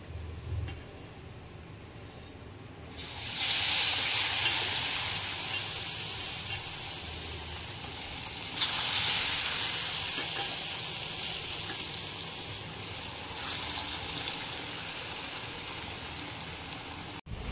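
Potol (pointed gourd) chops dropped into hot oil: a sudden bright sizzle that swells as each batch goes in, then settles into a steady crackling hiss with a few fresh bursts, close and continuous.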